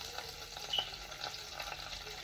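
Garlic fries in a pan for a Sri Lankan long yard bean dish, a soft, steady sizzle with faint crackles and a light stir, quiet and close with no talk.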